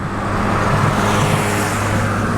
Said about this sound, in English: a car just passed us